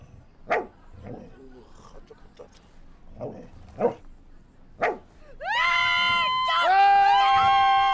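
A dog gives several sharp, separate barks close by, then breaks into a long, high whining howl that holds to the end, with voices nearby.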